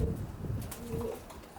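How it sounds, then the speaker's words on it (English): Racing pigeons coo softly in a loft section holding fifteen pairs, a low murmuring burble with no speech over it. "This is another nice pigeon, Brian"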